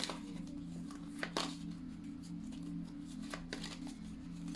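Tarot cards being shuffled at close range, a soft continuous riffling with a few sharper slaps, over a steady low electrical hum, without talking.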